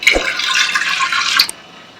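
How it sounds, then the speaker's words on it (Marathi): Water pours into a pot of washed toor dal for cooking, a loud, close, continuous splashing stream that stops abruptly near the end. "त्याच्यामध्ये आता पाणी घालते शिजण्यासाठी"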